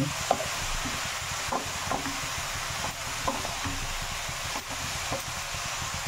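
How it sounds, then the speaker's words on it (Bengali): A steady sizzle of grated carrots frying in a hot pan for carrot halwa, with occasional stirring scrapes and small clicks. "আমি কড়াইটা গরম করে এখন এর মধ্যে গাজরগুলো ঢেলে দিলাম, দিয়ে এটা কিছুক্ষণ ভাজবো।"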